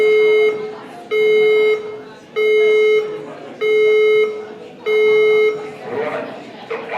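Building fire alarm sounding in a parliament building, five evenly spaced loud tonal buzzer blasts, each about half a second to a second long, with a recorded voice and background chatter between them.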